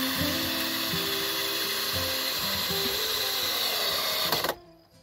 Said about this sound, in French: Les grandes vis, donc on fait des pré-trous